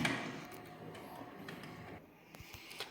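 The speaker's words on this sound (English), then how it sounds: "Let us power on this printer." A printer with an integrated ink system powers on with a soft mechanical whir and hum, followed by a few light clicks and ticks near the end. It is close and fairly quiet, with no talk.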